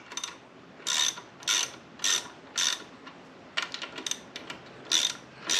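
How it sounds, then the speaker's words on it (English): A hand ratchet clicks in quick bursts while snugging the two front-axle pinch bolts on a Harley-Davidson Softail front wheel, with close, crisp, rhythmic pawl ticks and short pauses between strokes. "the 2 pinch bolts here you want to snug up."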